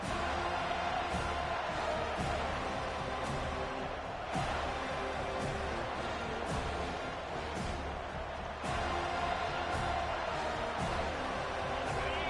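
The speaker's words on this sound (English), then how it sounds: "This crowd bringing an ear-splitting welcome to their visitors." A stadium crowd at a college football game between SMU and Florida State roars in a dense, continuous wall of cheering, loud and sustained throughout with occasional sharper swells.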